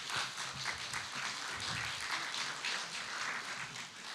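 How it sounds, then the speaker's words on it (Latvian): An indoor audience at a teachers' discussion in Alūksne applauds to welcome a speaker, steady dense clapping throughout, moderately distant and soft. "Lūdzu, sagaidām ar aplausiem Aivars Fomins"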